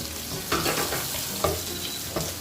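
Onions sauté in a pan over fairly high heat, sizzling steadily close up, with a few scraping stirs of a utensil.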